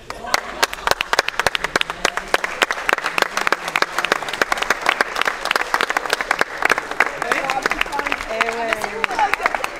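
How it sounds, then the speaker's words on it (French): Audience clapping at a regional elite badminton championship trophy ceremony in Limoux, with sharp individual claps mixed into steady applause and some voices chattering underneath near the end. "Ah ouais, j'applaudis"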